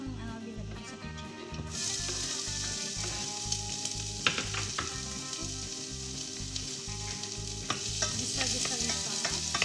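White onion sautéing and being stirred in a pan, a steady loud sizzle with frequent scraping and clinking of the utensil against the pan, running continuously throughout with no talking.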